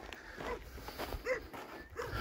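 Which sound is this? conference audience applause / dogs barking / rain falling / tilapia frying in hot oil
dogs barking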